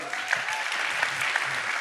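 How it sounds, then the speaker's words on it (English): Steady applause from a crowd, a dense wash of clapping that holds evenly throughout. "So just round of applause, I think."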